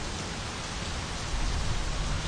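Steady hissing rain in the video game My Summer Car fills the clip evenly, a dense wash of drops with a low rumble beneath, no voices.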